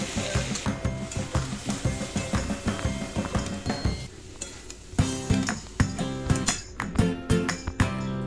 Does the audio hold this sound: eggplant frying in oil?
yes